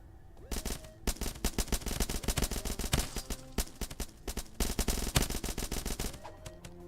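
Rapid gunfire from a gun in the video game Starbound, a dense run of sharp shots that rattles on for several seconds with a short pause partway through, loud and close.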